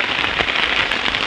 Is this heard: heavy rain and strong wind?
yes